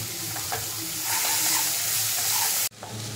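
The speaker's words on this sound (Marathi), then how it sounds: "आता आपण जो बारीक कापून घेतलेला कांदा तो टाकून घेऊया, त्याला व्यवस्थित परतून घ्यायचं आपण।" Finely chopped onion sautéing in a pan for dal palak khichdi, a close, dense, continuous sizzle that swells slightly midway before a sudden drop near the end.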